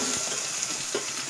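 Tomatoes and onions sizzle steadily in a pan as a potato curry cooks, with soft scraping stirs breaking through the continuous close frying hiss.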